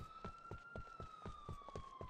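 A police car siren wails in GTA IV, a fast pulsing electronic yelp with a steady rhythmic beat of about four pulses per second, faint and distant, with no talk over it.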